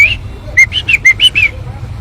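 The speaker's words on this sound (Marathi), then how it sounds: "तर हा फिरता उडता फिरणारा पक्षी मित्रांनो" A rescued wild bird that has lost both legs gives a quick run of about six bright, high chirps packed into one second, close and clear over a low background rumble.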